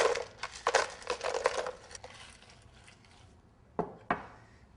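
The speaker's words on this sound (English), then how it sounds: "and finally some ice." Ice cubes tumble into a Vitamix blender jar in a quick burst of clinks and rattles, followed by a quieter stretch and two final sharp clatters, with no talk.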